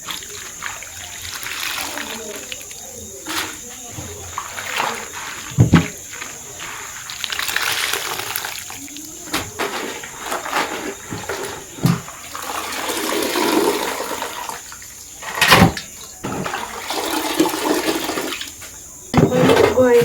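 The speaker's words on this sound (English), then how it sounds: "Now that I'm done preparing my vegetables, I'm going to go ahead and wash them up" Bitter lettuce (akech) vegetables washed in water, a continuous splashing and trickling of water with intermittent clunks and sloshes, fairly close and steady throughout.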